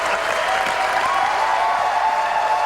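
A huge arena crowd in Tacoma erupts for a perfect 300 bowling game, loud dense applause and cheering that holds steady without a break, with a few shouts rising above the roar.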